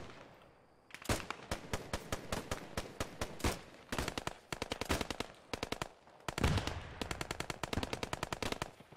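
Rapid machine-gun bursts in Post Scriptum, loud sharp cracks firing in long fast strings and short clusters, close and dominant with brief gaps between volleys.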